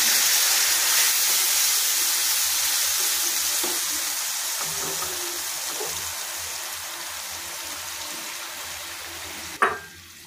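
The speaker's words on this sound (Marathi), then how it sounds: "दीड वाटी पाणी घातलं आपण इतकं।" Water poured into a hot pan of tempering for thapiv vadi gives a steady hissing sizzle that slowly fades over several seconds, ending in a short sharp clatter.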